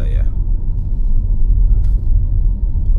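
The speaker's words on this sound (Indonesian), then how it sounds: "nggak ada suara mesin sama sekali ya. Ini kedap, hening banget. Cuma ada suara AC sama ambience" Inside a BYD Sealion 7 at night, the cabin stays hushed with no engine noise, just a low steady hum from the air conditioning and faint ambient rumble.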